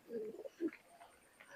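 A pair of traditional Khulna Tula pigeons coo softly and close by, a low throaty burst followed by a second shorter coo, then quiet faint background noise.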